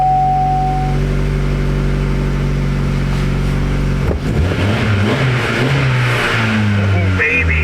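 A Chevy Spark engine with a newly installed ECM idles steadily, then revs up sharply partway through. The engine is close and loud, and rising, uneven engine tones follow the rev.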